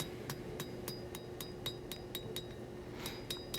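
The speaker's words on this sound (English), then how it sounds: "time to go to the anvil. And work that tip down." Hammer blows ring out on an anvil while a knife blade's tip is drawn into a long taper at the forge, a dozen or so sharp metallic strikes in an uneven rhythm, some closely paired, close and clear over a low steady hum.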